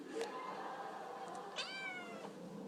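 A kitten lets out a thin, high meow with a drawn-out, falling tail, preceded by a brief squeak, heard fairly faintly indoors with no talking over it.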